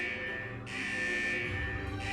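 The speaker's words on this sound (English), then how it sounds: "Is that the central alarm of the vault?" Central vault alarm in the video game Wuthering Waves: a steady, buzzing electronic tone blares continuously, cutting out and restarting in pulses, loud and alone.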